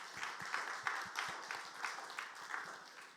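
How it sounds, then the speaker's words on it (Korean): A church youth service congregation claps in a brief burst of applause, a quick scattered rhythm of hand claps heard at moderate distance in a large room. "박수 한번 쳐주세요"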